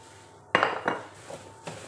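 Burger ingredients are stirred in a bowl with a utensil, giving a few scattered clinks and scrapes against the bowl, fairly quiet and close, with short pauses between strokes.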